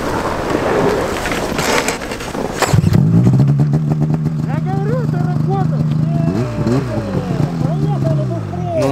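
A snowmobile engine starts up and drives off in snowy mountains, a loud rough motor drone that rises and falls as it pulls away, with voices chattering over it.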